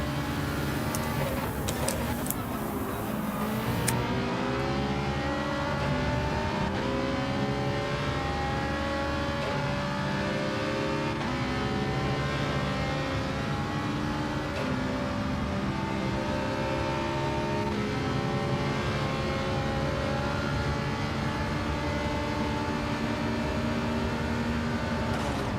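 A Ferrari race car in Gran Turismo 7 accelerates hard, its engine note climbing steadily through the gears in a loud, continuous rising whine that lasts throughout.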